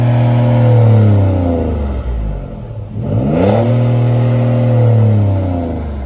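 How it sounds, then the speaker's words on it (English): A diesel car engine revs up, drops back briefly, then revs again, loud and close with a steady low drone. "go on, give it a rev, mate."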